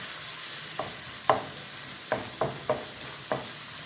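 Sausage frying in a pan gives a steady hiss of sizzling, broken by a handful of soft scraping stirs spaced irregularly, close and without talk.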